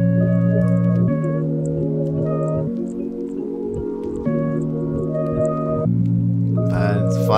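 Reversed ambient trap melody built in FL Studio, layered synth tones swelling backward in sustained chords that shift every second or so, with a bright smeared texture rising near the end, loud and alone.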